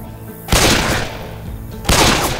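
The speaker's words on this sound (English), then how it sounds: "God damn it, stop shooting me!" Friendly-fire gunfire in Left 4 Dead 2 versus play comes as two loud, dense bursts of rapid shots separated by about a second of lower, steady background din.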